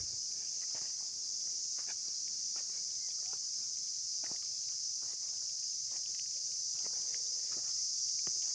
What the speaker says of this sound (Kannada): ಈ ಗುಯ್ಯೋ ಅಂತರದ್ದು ಬಂದು ಜೀರಂಗಿಗಳು ಏನಂದರೆ ಈ ಒಂದು ಮಳೆಯಲ್ಲಿ ಸಹಜ ಬರೋದಿದು